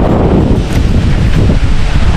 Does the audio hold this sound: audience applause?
no